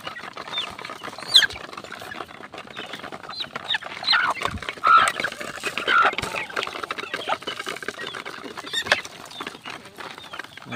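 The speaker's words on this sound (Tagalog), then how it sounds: "So bibigyan na po natin sila ng patuka ng ating mga alagang sisiw dito. Nagmamadali na, gutom na gutom." Hungry chicks feeding at a trough: a busy patter of pecking on feed with scattered high peeps and cheeps, close by and continuous.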